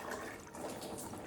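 Water poured by hand into a homemade resonator bar, a short continuous splashing gurgle at close range with no talk.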